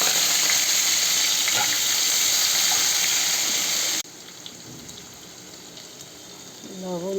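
Onion hits a pan of frying fish and nigella seeds, a loud steady sizzle that drops sharply partway through to a quieter crackle, with faint stirring near the end.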